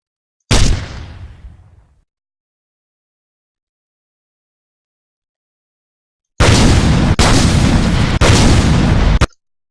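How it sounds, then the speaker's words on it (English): Grenade launcher blasts from the game Left 4 Dead 2: one loud, sharp explosion with a fading rumbling tail, then after a silent pause a longer stretch of loud, continuous blasting broken by a few brief cuts; no voices. "So let's go with the grenade launcher actually."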